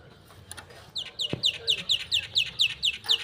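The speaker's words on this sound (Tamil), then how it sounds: "குருவி சத்தம் அழகாக இருக்குது கிச்சு கிச்சு கிச்சு கிச்சு கிச்சு" Sparrows chirping in a garden, a run of about ten quick, bright chirps repeating at a steady pace, fairly close and clear over a quiet background.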